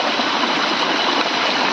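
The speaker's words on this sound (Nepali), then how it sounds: "आलीमा टक्क पानी, खेतमा, धानको खेतमा पानी लाग्दैछ" Irrigation water flowing steadily into a rice paddy field through a gap in the bund, a continuous near rushing gush with no voices.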